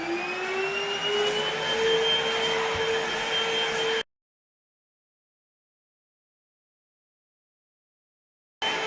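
A Vax SlimVac vacuum cleaner runs over low pile carpet in a spare room, giving a steady close whine and airy rush for about four seconds before cutting to silence, then briefly resuming.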